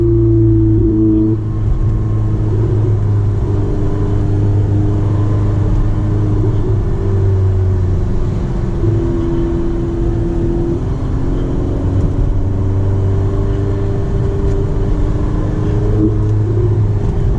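A Ferrari 488 Spider's 661-horsepower 3.9-liter twin-turbo V8 revs and accelerates steadily, its loud droning growl with shifting tones filling the whole stretch, no talking.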